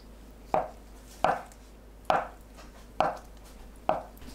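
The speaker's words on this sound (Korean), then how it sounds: "두부를 가로 세로 1cm 크기로 썰어줍니다." Five crisp knife chops through tofu on a cutting board, evenly spaced about a second apart, close and clear against a quiet background.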